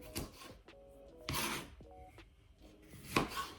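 A knife dices bell pepper into small cubes on a cutting board, giving a few scraping, rasping cuts with short pauses between strokes, fairly close and moderately loud, with no talking.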